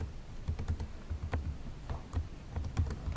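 Keys clattering on a computer keyboard while text is entered into a software panel, irregular soft clicks and taps close up, with brief pauses between bursts and no voices.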